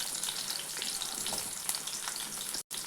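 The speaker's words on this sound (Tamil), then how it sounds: "அந்த எண்ணெயில் இந்த இஞ்சியும் பூண்டும் கொஞ்சம் லைட்டாக வதங்கினா போதும்." Ginger, garlic and chopped raw mango sauté in hot oil for a guava chutney, giving a steady soft sizzle and crackle with faint stirring, close by and alone, with a brief dropout near the end.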